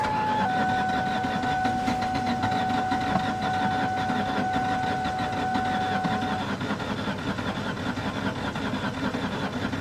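A car engine with no fuel supply turns over repeatedly in a steady, grinding churn without catching, continuing for several seconds against a constant mechanical background.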